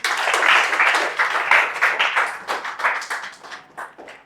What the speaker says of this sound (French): On peut acclamer le Seigneur pour sa parole.